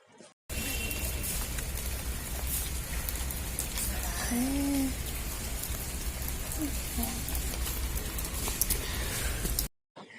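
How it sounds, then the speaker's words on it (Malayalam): Heavy rain falls in a dense, steady hiss throughout at Sivagiri in Varkala, with a faint brief tone rising out of it midway. "നല്ല മഴയായിരുന്നു നമ്മൾ ചെന്ന സമയത്ത്"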